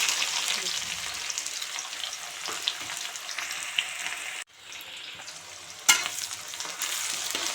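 Spices and onions fry in hot mustard oil for aloo gobi masala, a steady close sizzle with a few scraping stirs; the sizzle briefly cuts out near the middle, then returns with a sharp clatter.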